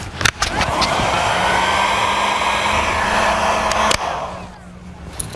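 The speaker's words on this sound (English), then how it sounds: "Slide the heat shrink down over the terminal and shrink it down." Heat gun shrinking heat shrink tubing over a wire terminal on a 1949 Chevrolet gasser's transbrake lockout wiring: a steady, loud broadband blowing hiss that runs about four seconds, then eases off and drops away near the end.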